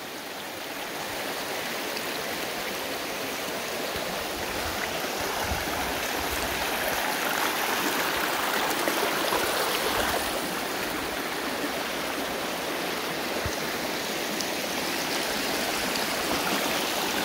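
A wide river flows steadily in rural El Salvador, a continuous broad rushing of water that stays loud and even throughout, with no voices.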